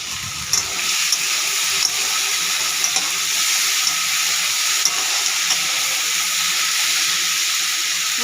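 Prawns drop into a hot pot of mung dal with green chillies, giving a short low splash followed by a steady close sizzle and faint stirring ticks, with no talking.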